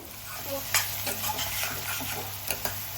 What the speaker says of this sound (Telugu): ఇవి వేగుతుంది ఇంకొంచెం వేగాలండి